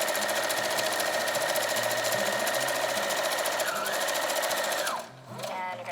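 A sewing machine stitches a DIY fabric face mask at stitch length 2.5, running as a loud, steady rapid whir that slows and stops near the end, followed by a brief softer burst.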